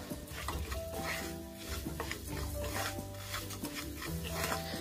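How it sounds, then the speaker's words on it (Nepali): Sugar and ground spices for a sweet amla pickle fry in a pan with a soft, steady sizzle, broken by repeated scraping and stirring strokes of a utensil against the metal. "चिनीलाई मजाले क्यारामलाइज नहुन्जेल मजाले यसलाई हामीले भुट्नुपर्छ"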